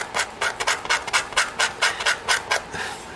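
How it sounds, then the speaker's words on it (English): A hand scraper is drawn repeatedly across a surface during a restoration, smoothing it with about a dozen rhythmic rasping strokes, close and fairly quiet, with no talk. "And then I just scrape the last little bit down to the surface"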